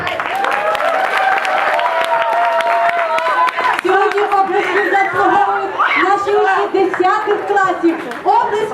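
A school crowd applauds and cheers for 11th-grade students at a New Year performance, a dense, loud wash of clapping and shouting with voices carrying through it.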